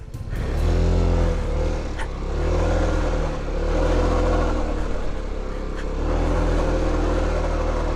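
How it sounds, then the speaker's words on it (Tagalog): A motorcycle engine runs with a fault that sounds like a slipping drive belt, its low drone rising and falling in repeated surges over about eight seconds, loud and close with no talking. "Parang may nasira sa motor ko."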